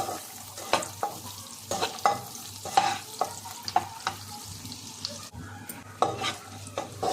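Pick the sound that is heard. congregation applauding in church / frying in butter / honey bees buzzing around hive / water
frying in butter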